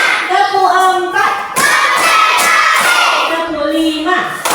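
In a classroom, children do a counting clapping game: sharp hand claps punctuate loud chanted voices, with bursts of group clapping between the sung counts.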